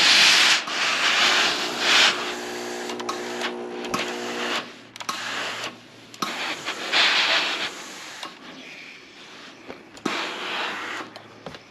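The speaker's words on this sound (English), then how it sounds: "I'm going to give it all a quick steam." A steam iron hisses in bursts over a sewn fabric bag. Several loud, broad whooshes of steam alternate with quieter gaps and a faint hum. The bursts are close by, with no voices.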